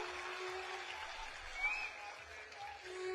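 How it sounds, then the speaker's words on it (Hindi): A rally crowd in Jind, Haryana applauds in a fairly distant, even wash of clapping, with a brief whistle-like tone rising above it. "एक बार जोरदार तालियां"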